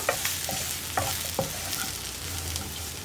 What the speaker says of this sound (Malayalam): പൊടികൾ ചേർത്ത് നന്നായിട്ടൊന്ന് ഇളക്കി കൊടുക്കുക.